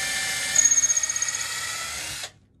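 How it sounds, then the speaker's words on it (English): A power drill whines at high speed drilling a pilot hole in wood, its pitch pulsing as it bites in, then cuts off abruptly into silence. "I'm just drilling a pilot hole so I don't snap."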